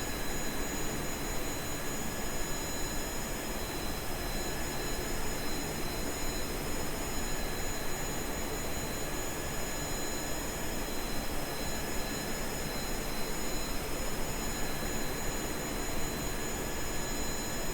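Rocket engines run in the video game Kerbal Space Program, a constant loud roaring drone with steady whining tones on top, unchanging throughout and with no voices.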